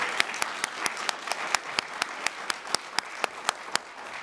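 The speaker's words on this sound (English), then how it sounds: "Let's give them a bigger round of applause," Steady applause from an audience at a Kwanzaa festival event, many hands clapping in a sustained wash with sharper individual claps popping through at a regular pace.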